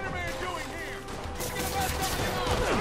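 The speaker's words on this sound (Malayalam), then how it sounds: "ഇവന്മാരാണ് നമ്മൾ വെടിവെക്കുന്നത് അവിടുന്ന്." Bursts of enemy gunfire from the video game Spider-Man Remastered crackle through a busy, continuous game soundscape of music and effects, steady and fairly loud for about three seconds.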